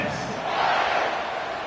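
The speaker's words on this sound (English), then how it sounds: "this crowd is buzzing after that last score" A stadium crowd in a college football video game keeps up a loud, steady roar late in the fourth quarter after a touchdown, a continuous mid-pitched buzz that swells slightly midway through.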